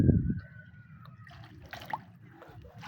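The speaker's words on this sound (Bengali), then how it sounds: "আর পানি তো পানির দেখেন কি পরিমাণ আওয়াজ।" Water pours in a flooded hobby garden now used to raise fish, making a steady, close, rumbling rush that runs unbroken from start to finish with no voices.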